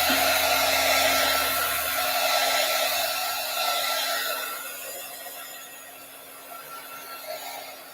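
Hair dryer blowing loud and steady close by to dry stencil paint, its whoosh gradually easing and fading as it is moved away.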